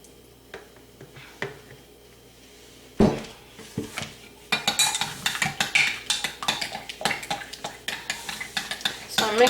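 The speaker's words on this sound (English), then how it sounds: "So I'm mixing up these colors here" Spoon or spatula stirring fluorescent and darker green goat's milk shea butter soap batter in a container, starting with a few isolated taps, then a loud scrape and a run of quick, close clinking strokes.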